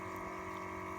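Steady, continuous hum of a solar hydro purification pump running water at a water source, a constant mechanical drone with flowing liquid, close and even throughout, with no talking.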